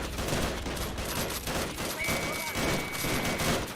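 Sustained gunfire from a 1919 German Revolution strategy game battle between Freikorps and Spartacists, a dense, continuous crackle of machine-gun and rifle shots filling the whole stretch.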